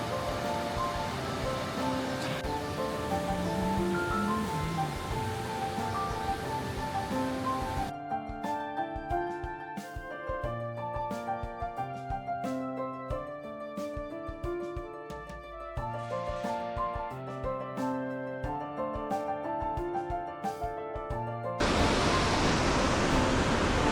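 Slowly flowing river water in a quiet autumn town in Hida Furukawa, Japan, makes a steady, even rush that is heard alone at the start and end, with a long stretch of music in between.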